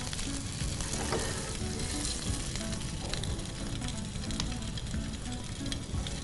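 Paneer frying in a pan gives off a dense, steady sizzle close up, with light crackles and popping running throughout and no voices.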